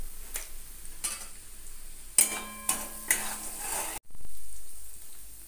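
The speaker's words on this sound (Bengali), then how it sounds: "এবার ভালো করে কষতে হবে।" Red chilli powder and sugar sautéing in a kadai, a soft sizzle under several sharp clinks and scrapes of a spoon against the metal pan, then a short muffled clatter before quieter frying.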